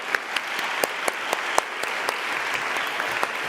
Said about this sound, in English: let's just give a round of applause for these 100 people